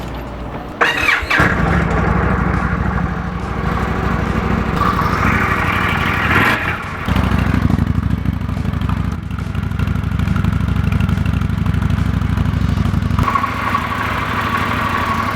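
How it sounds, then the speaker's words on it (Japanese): An Indian Scout Classic water-cooled V-twin motorcycle is started: a brief starter crank catches near the start, then the engine settles into a loud, deep, steady run with a rev swell midway and a shift in tone near the end. "V 型エンジンスカウトクラシックエンジンかけていきたいと思います。"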